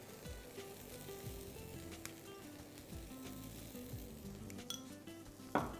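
Food sizzles quietly in a pan with tomatoes and tomato purée while it is stirred, with soft scraping, light clinks against the pan and one sharper knock near the end.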